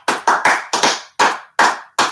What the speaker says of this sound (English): You win a round of applause from Father and I.